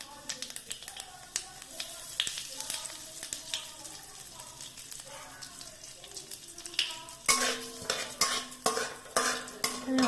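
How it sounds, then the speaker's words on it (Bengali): Nigella seeds and asafoetida tempering in a little hot white oil, spoon clinks and stirring scrapes over a light sizzle that grows louder and busier toward the end, with a voice talking quietly beneath. "আর একটু কালো জিরা ফোড়ন দিলাম"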